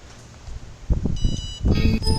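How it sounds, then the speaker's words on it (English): A QBox battery tester box gives short electronic beeps, tonal and fairly high, sounding twice in the second half over low room noise and faint voices. "you probably heard from the box a little beep"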